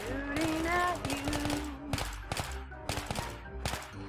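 Rapid automatic gunfire from Battlefield 3 rattles in repeated loud bursts, several sustained volleys separated by short pauses, with brief game voice and sound effects in the opening.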